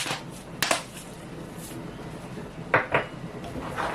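Dried bitter leaf being stirred into banga soup in a pot brings close, intermittent clinks and scrapes of a spoon against the pot, a few sharper knocks spaced through a low background.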